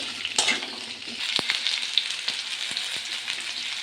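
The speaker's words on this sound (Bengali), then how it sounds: "আলুগুলো ভেজে নিচ্ছে।" Potatoes fry in hot oil in a pan for a jackfruit curry, with a loud, continuous sizzle and a few scraping stir strokes close by.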